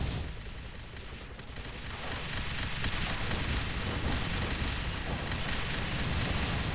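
Gunfire and explosions striking a base in the Air Mech video game, a dense continuous barrage of rattling shots and booms, loud and growing heavier toward the end.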